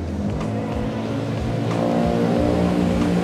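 Kawasaki ZX-25R motorcycle with custom neo cafe racer build revs through its exhaust, a throaty rumble rising and falling in short bursts, loud and close.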